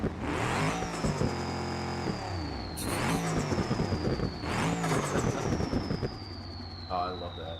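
A turbocharged 5.5 liter V8 from a pickup in the game BeamNG revs hard through repeated rising pulls, with a high turbo whine climbing over the engine's roar and dropping off between runs.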